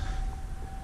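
Outdoor civil defense sirens wail steadily during their quarterly test, a faint sustained tone over heavy low rumble and ambient noise, with no one speaking.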